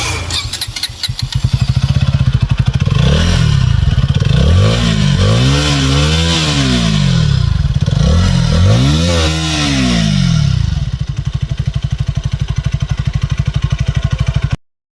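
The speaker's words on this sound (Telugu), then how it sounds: "అండర్బెల్ ఎగ్జాస్ట్ ఉంది ఈ వెహికల్లో," A KTM Duke 160 motorcycle with an underbelly exhaust idling loud and close, with several rising and falling throttle blips in the middle before settling back to a steady thumping idle.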